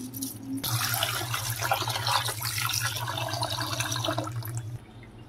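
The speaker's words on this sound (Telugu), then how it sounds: "ఇప్పుడు ఈ మూడు చక్కగా నీట్గా అయితే కడిగేసుకుందామండి." Water runs and splashes steadily for several seconds as lentils are rinsed in it, with a low hum beneath, stopping abruptly near the end.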